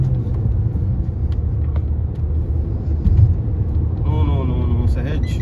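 A Maruti Suzuki Brezza SUV cruises on a highway at about 80 km/h and 2500 RPM, heard from inside as a steady low engine and road rumble, with talking over it.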